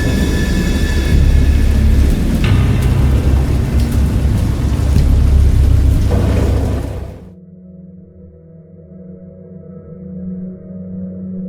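Heavy rain pours with rumbling thunder, loud and steady, then cuts off abruptly into a low, quiet hum.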